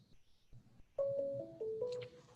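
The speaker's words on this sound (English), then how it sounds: "why is my phone ringing?" A phone ringtone starts abruptly after a quiet moment, playing a short stepped electronic melody that repeats at moderate loudness indoors.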